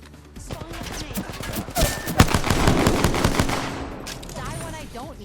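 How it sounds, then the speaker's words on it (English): Rapid gunfire bursts in the battle royale game Apex Legends, Season 20, crackling densely with a sharp peak near the middle, alongside other in-game sounds. "And we're getting shot at."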